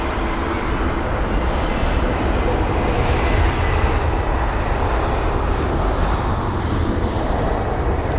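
A steady, loud roar of a jet aircraft landing at London Heathrow at sunset continues without a break, broadband and constant with no voices.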